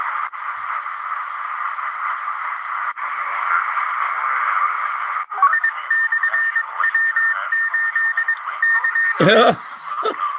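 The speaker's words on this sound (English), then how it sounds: "some Morse code" Morse code keying picked up during a live medium-wave and shortwave band scan on an Si47-series receiver, a steady train of short beeps riding over loud continuous static and hiss, ending in a brief burst of tuning noise.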